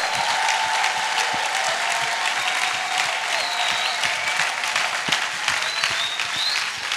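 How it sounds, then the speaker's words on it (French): Sustained applause from a church audience, dense rapid clapping that stays even and moderately loud for several seconds with no voices on top. "Acclame, acclame, acclame cette parole."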